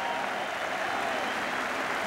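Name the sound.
football crowd applauding at end of match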